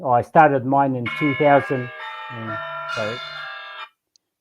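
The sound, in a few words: phone alarm reminder ringing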